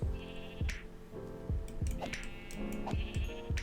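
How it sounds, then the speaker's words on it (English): A brown sheep in Minecraft bleats repeatedly, several short clipped bleats spread across the moment, close and clear, with game sound effects around them and no talking. "Brown sheep."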